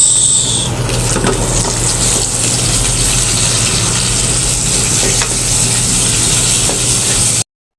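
Loud, steady sizzling of garlic and onion frying in a hot pan, with occasional stirring scrapes and no talking.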